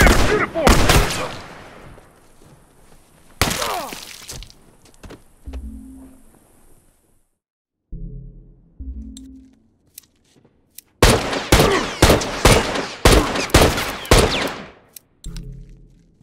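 Gunfire in The Last of Us Remastered, a high school level in multiplayer: loud bursts of rapid automatic shots and single cracks come in clusters, separated by quieter gaps and faint low rumbling.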